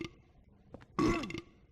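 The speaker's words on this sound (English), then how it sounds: "He burps." A video game monster lets out a loud, gurgling burp about a second in, lasting under half a second, with quiet game ambience before and after.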